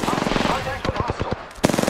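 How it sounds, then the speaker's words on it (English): Rapid automatic gunfire from enemies in the Apex Legends video game, loud bursts of repeated shots with a brief pause mid-clip before the firing resumes. "The enemies are shooting at me."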